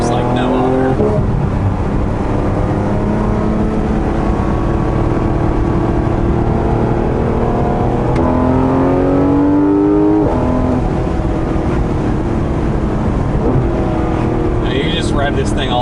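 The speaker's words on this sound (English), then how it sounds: "Rev this thing all day and it'll just bring a smile to your face." A 2019 Porsche GT3 RS with Weissach package, engine revving hard, loud and close, with rising and falling pitch sweeps as it climbs through the revs, a voice talking over the engine noise.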